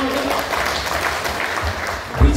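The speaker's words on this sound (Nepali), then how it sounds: "एकचोटि 3 ताली बजाउँदै यस भन्नु हजुर" Audience clapping in unison at a Lions Club officers' workshop during a motivational talk, a dense burst of claps running through the moment with a voice mixed in.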